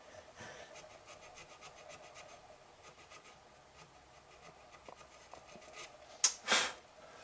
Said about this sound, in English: So I'm going to have to go right down the stock now and sand each one of them like that.